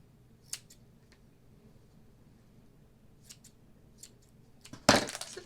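Scissors snip a yarn pom-pom being trimmed, giving a few sparse, crisp clicks up close, then a louder burst of cutting near the end.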